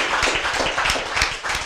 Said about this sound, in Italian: Fatemi un applauso, maestro,